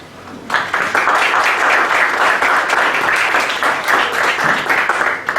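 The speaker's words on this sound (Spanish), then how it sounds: "de la licenciada Claudia Quintero Jaramillo, a quien les pido le brindemos un fuerte aplauso." An audience at a legal conference on environmental offences breaks into strong, sustained applause, loud and steady from just after the start to the end, with no talk over it.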